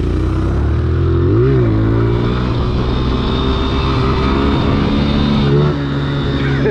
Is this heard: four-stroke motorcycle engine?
yes